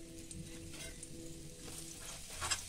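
Ginger paste fries in oil in a pan for red chili pickle, giving a soft, steady sizzle with faint stirring scrapes throughout and a small clink near the end.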